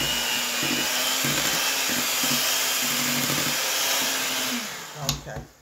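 An electric mixer whirs steadily through vanilla cake batter with a loud, continuous hum and slight pitch wobbles, then cuts off near the end, followed by a few brief clanks.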